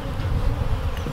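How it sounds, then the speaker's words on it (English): A swarm of honey bees being handled while installed at a homestead, a loud, close, continuous buzzing drone from many bees. "Look at all them bees"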